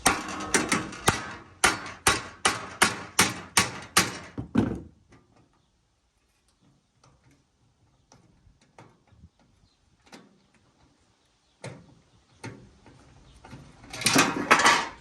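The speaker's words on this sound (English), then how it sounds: "I'm going to see if I can get it out of there with an impact screwdriver" An impact screwdriver is struck with a hammer to loosen a fastener on the inner rocker of a 1969 Dodge Coronet. About ten sharp metallic blows land in quick succession, then quieter clunks and tapping, with another burst of hits near the end.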